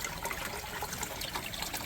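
Water trickling steadily during a water change at a cold outdoor garden pond, a close, continuous splashing dribble with no voices.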